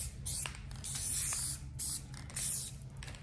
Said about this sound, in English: And then I'm just going to spray it